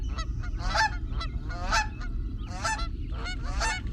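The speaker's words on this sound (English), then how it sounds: "You are the go-to person for anyone needing an angry goose." An angry goose honks as a sound effect in a radio play, giving four or five loud, harsh, close bursts of honking at a steady rhythm over a low background rumble.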